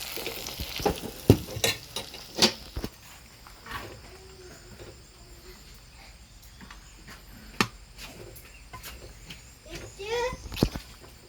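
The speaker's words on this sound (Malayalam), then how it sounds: "മസാലയിൽ കൊഞ്ച് കിടന്നൊന്ന് ഫ്രൈ ആകട്ടെ" Prawns frying in masala for a biryani give a low sizzle broken by intermittent stirring clatters and scrapes, close by, with a person speaking at times.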